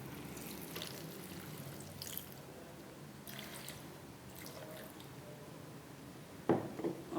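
Water pours into a blender holding milk powder and ice cubes for an Oreo milkshake, a faint steady trickle with soft splashes and a louder clunk near the end.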